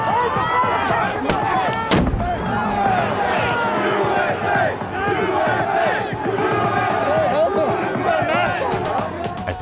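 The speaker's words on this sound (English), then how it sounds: "Police started throwing flashbang grenades and spraying mace." Police flashbang grenades going off in a crowd, one sharp loud blast standing out near the start amid a dense roar of shouting people and scattered thuds, with voices throughout.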